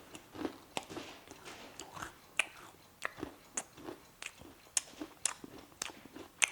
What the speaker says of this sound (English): Really good crunch.